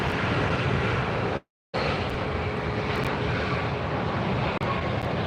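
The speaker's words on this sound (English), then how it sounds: "That was the JetBlue arrival." A JetBlue jet arriving at LAX airport, its engine roar loud and steady for several seconds, broken once by a brief dropout, with wind buffeting the microphone.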